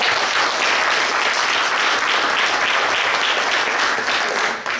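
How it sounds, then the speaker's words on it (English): Audience at an education and pedagogy panel discussion applauds the panelists: a dense, even wash of clapping from a room full of people, sustained at full strength and cutting off near the end. "Let's give them a round of applause."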